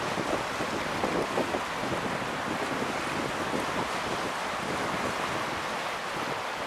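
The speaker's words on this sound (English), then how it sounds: "Water is flowing after the storm here in Santa Ana." Steady rushing water of the Santa Ana River in a flood control channel after a storm roars continuously, mixed with gusty wind buffeting the microphone, loud and close with no pauses.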